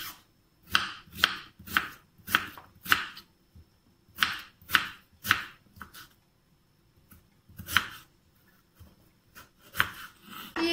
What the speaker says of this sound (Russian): И остался у нас картофель. Я его нарежу тонкой соломкой.